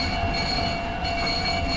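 A tram in the Kyoto train game Densha de Go Ryojou Hen brakes toward a stop, with a steady loud rumble of wheels on rail and a thin high squeal running throughout, no talk.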